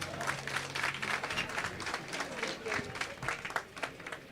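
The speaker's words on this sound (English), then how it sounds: "Another round of applause for them, please." Sustained applause from a crowd at a fundraising gala dinner, many hands clapping continuously for a few seconds.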